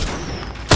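A single sharp gunshot from an Apex Legends or Fortnite battle royale match cracks out loud and close right at the end, after a stretch of quieter game ambience.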